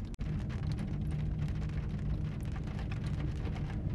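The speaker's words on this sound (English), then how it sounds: "it's about to start raining" Steady rain falling and pattering on surfaces, dense and continuous, with a low rumble underneath and no voices.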